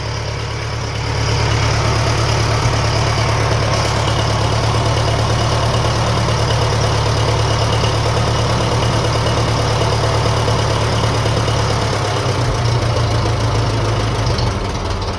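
A 1957 Ferguson FE35 tractor engine running on TVO idles steadily at close range, a low, even rumble that holds constant throughout with no other sounds.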